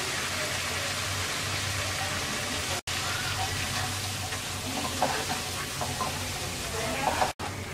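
Mustard paste frying in a pan, a steady broadband sizzle with light crackling pops and stirring scrapes, continuous and close, pausing briefly twice.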